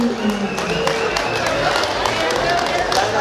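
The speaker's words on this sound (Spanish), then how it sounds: "¡Fuerte los aplausos!" Guests at Rubí and Hugo's wedding applauding after a toast to the couple, a dense and steady wash of clapping mixed with loud crowd noise that continues throughout.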